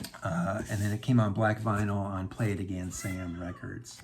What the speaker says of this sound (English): so if you hear a cat screaming and yelling, she's outside my door and she wants treats